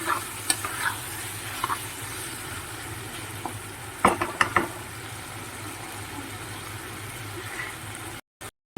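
Chicken skin being stir-fried in a pan for a spiced curry, a loud constant sizzle with intermittent clanks and scrapes of a spatula against the metal; no talking.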